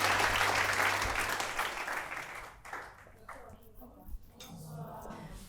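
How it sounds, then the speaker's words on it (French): Applause from the audience at a fashion event, clapping that starts moderately strong and fades out after about two and a half seconds, leaving quieter room sounds and faint voices. "Sous nos applaudissements, Marlène Ngimbi"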